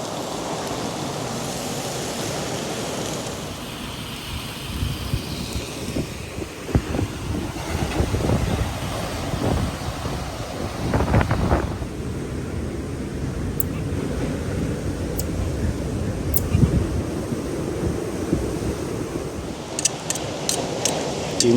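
Wind buffets the microphone on a hot deserted beach near Rio de Janeiro while steak cooks on a folding stove, a continuous rough, loud rush with gusty swells and no speech.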